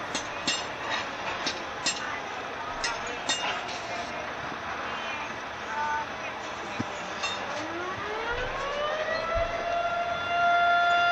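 A civil defense siren, sounding as an equipment test, rises slowly from a low pitch and holds a steady wail in the distance near railway tracks, with faint clicks and background noise throughout.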